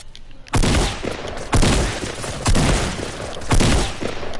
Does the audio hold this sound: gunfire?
yes